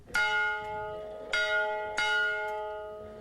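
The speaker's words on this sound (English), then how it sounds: "Paul Pack's Husker Bell has practically been silenced" The Husker Bell, a large bell on the outskirts of Lincoln, Nebraska, struck three times in slow succession, each clang ringing out loud and clear with a long shimmering decay.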